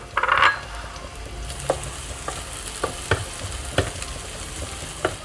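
Shallots fry in hot oil for a Thai stir-fried instant noodle dish, giving a steady sizzle with an early loud burst and several sharp scraping stirs spaced through it, no talking.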